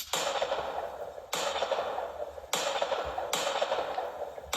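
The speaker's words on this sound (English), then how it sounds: "So I included gunshot samples around here." Gunshot samples used as percussion in a Nemzz-style hip-hop beat, filtered to remove low end: four sharp, bright bursts land at a steady interval, each decaying into a noisy tail, loud and close with no voices.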